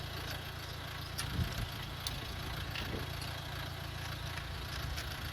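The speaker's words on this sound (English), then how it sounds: "As you can hear, our engine is running." A Nissan's engine idles steadily in a garage during a front brake pad replacement, a low continuous rumble at moderate level with a few faint knocks and clicks on top and no speech.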